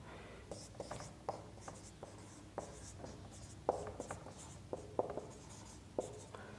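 Chalk or a marker writes corner points on a classroom board, giving quiet scratchy strokes and sharp taps in an uneven rhythm, close and faint, with no voices.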